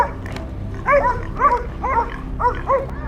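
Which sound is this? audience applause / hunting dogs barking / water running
hunting dogs barking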